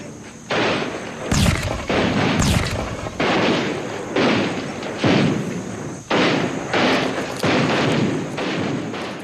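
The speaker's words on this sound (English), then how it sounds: "The new rifles played a key role, picking the rebels off at long range" Rifle fire in a battle against rebels on the Indian plains, heavy booming reports arriving at irregular intervals, roughly eight loud blasts with rolling echoes and a steady rumble between them.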